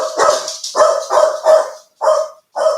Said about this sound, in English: Oh, the dogs are barking away.